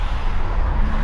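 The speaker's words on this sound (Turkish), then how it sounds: "Vallahi yine bir sürü trafik var" A steady, loud wash of road traffic noise in England, a continuous low rumble and hiss of passing cars with no pauses.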